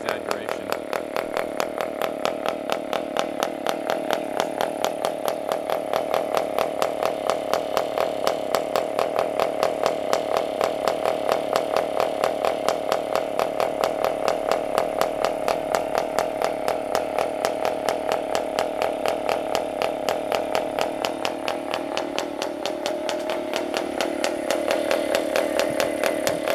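A PAW diesel model engine runs steadily for the whole stretch, a fast, loud, buzzing rattle of rapid firing pulses with no speech over it.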